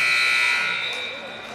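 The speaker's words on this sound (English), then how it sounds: "The buzzer sounds, and that will be the end of the third quarter." At a girls' high school basketball game between Hollister and Crane, the loud, steady electronic buzzer ending the third quarter sounds alone as one sustained tone that slowly fades.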